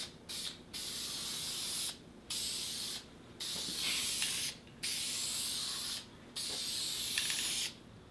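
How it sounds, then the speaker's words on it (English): Spray lacquer hisses from an aerosol can onto metal cabinet trim in several steady bursts of about a second each, separated by short pauses, fairly close and with no talking. "I'm going to go ahead and put a little bit of spray lacquer on here to protect our metal."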